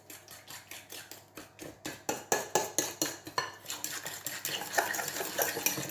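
Apple tart filling of sugar, milk and cream is whisked in a bowl, a rapid steady series of clinking utensil strokes against the bowl, close and clear, growing busier partway through.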